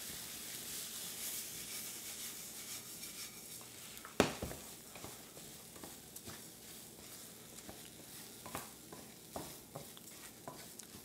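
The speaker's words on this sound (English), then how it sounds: "we're going to throw in our risotto rice right away" Risotto rice toasts in olive oil in a pan, giving a soft, low sizzle with scattered stirring scrapes and one sharp utensil clack, with no talking.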